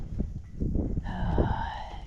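A show goat that has been roped and caught for eye treatment, calling out loudly with a drawn-out bleat that starts midway through, after a stretch of shuffling and handling noises.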